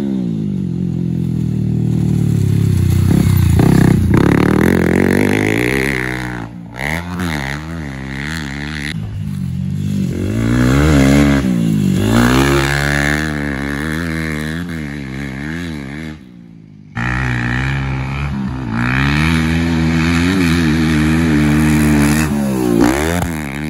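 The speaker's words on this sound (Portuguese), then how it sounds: "a moto está dando uns estouros, uns estralos" A motocross motorcycle on a training track, its engine revving loudly and continuously close by, with rough crackling pops from a backfiring exhaust and brief drops in throttle.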